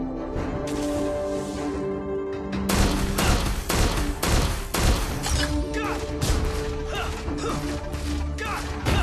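A tower being destroyed in Arena of Valor (ROV) during a match, a steady game tone suddenly broken by a dense burst of crashing impacts and repeated sharp hits that continue loudly to the end.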